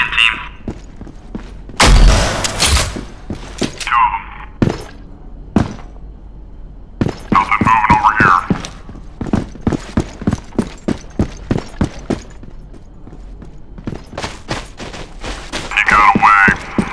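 Gunfire in the online shooter CSOL2 (Counter-Strike Online 2), with several broad bursts of shots and rapid clicking and thudding between them. It is heard alone, with no voices.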